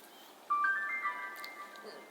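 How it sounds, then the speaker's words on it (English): A Kodak PixPro FZ55 compact digital camera plays its startup jingle, a short, quiet run of bright electronic chime notes climbing in pitch over soft background hiss. "it makes the cutest sound when you use it."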